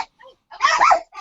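A dog gives a short, close, whining bark-like yelp with a couple of faint yips just before it, loud and alone in an indoor setting.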